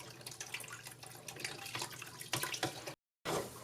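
Soapy hot water pours and splashes steadily into a kitchen sink for dish washing, a continuous close-up running stream that cuts out briefly near the end, then resumes.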